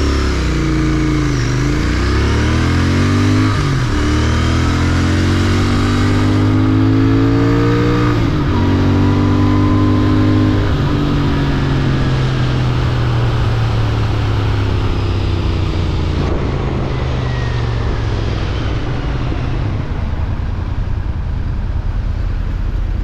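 A Royal Enfield Interceptor 650 motorcycle rides along, its engine revving up and dropping through gear changes, loud and close throughout with no talk.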